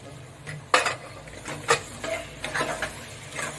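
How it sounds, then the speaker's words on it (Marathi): A metal lid clanks off a cooking pot of vegetables steaming in oil for masala rice, making two sharp close metallic clatters, followed by softer scraping and stirring clinks in a quiet kitchen. "करू तर आपण झाकण काढूया"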